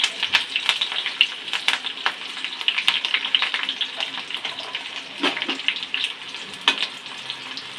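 Finely chopped onion and curry leaves frying in hot oil, a bright crackling sizzle that runs continuously with busy popping and a few stirring clacks, close and without speech.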